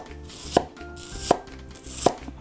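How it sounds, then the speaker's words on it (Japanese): Three sharp knife strokes hit a cutting board, evenly spaced about three-quarters of a second apart, as a cucumber or yam is cut lengthwise into sticks; close and clear with no talk. "で、これを縦にね、今棒に切っていきます"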